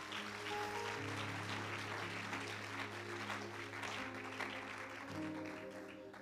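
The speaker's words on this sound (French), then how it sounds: "Acclame encore pour la gloire du Seigneur." A church congregation applauds during a worship service, a continuous wash of clapping heard at moderate distance throughout, with a low sustained musical tone underneath.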